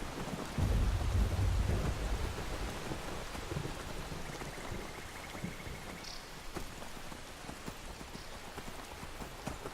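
In the video game Skyrim, a thunderstorm pours torrential rain, a dense steady roar of rainfall with a low rumble of thunder near the start, continuous and fairly loud with no voices.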